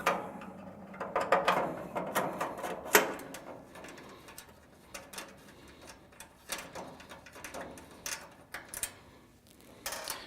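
Phillips head screws being unscrewed and removed from the flash tube and burner of a Summerset TRL sear side burner on a grill, with a series of close, irregular metallic clicks and ratcheting taps.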